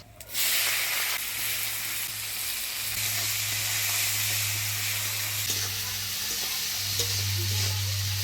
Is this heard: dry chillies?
yes